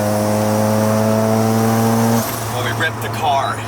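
A single turbo Mazda RX7 holds a loud, steady rotary drone on a mountain road, then cuts off abruptly into chattering turbo and exhaust sounds with squeaks and rumble.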